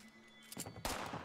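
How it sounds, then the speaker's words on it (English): Gunshots in Fallout 76, a couple of sharp cracks following a faint hum, the second louder and ringing out briefly. "This person just shot at me."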